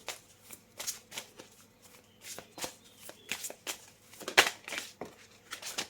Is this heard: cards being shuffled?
yes